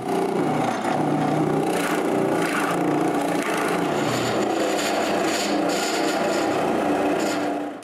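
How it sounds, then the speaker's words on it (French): Drill boring a hole to depth in wood while building a mobile workbench, a continuous loud grinding, rasping whir that holds steady for several seconds before stopping. "puis percer un trou à bonne profondeur"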